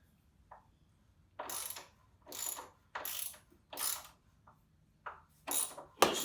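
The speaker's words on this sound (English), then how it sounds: "It's going to take two ratchets." A ratchet wrench loosening rear shock absorber bolts on a vehicle, heard as about seven separate bursts of rapid clicking, close and fairly quiet, with short pauses between strokes and no talking.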